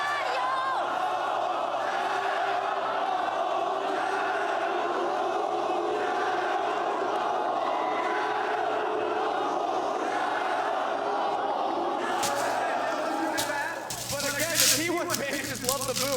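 A large esports arena crowd at the League of Legends World Championship 2024 roars a sustained battle chant, loud and continuous, ending in scattered cheers and noise.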